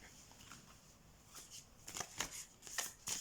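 Large oracle cards from an animal spirit deck being shuffled by hand, soft papery riffling and slides that build into a few louder bursts toward the end, close and alone with no talk.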